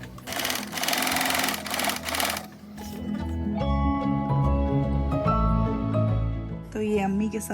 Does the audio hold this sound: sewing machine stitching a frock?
yes